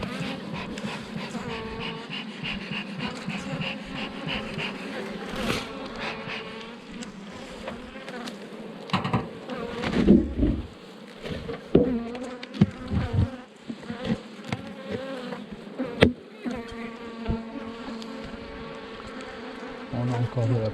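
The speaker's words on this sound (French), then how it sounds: "On a des abeilles beaucoup plus douces que juste avant." Bees buzz around linden trees during a linden-blossom harvest, a dense, close, continuous drone that swells and fades as insects pass, with scattered rustles and bumps.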